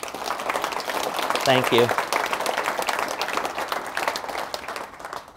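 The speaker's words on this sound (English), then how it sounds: "John, can we give John a round of applause?" A room of staff at a university all-hands meeting gives a steady round of applause, many hands clapping together in a dense, even patter, with a brief spoken thanks partway through.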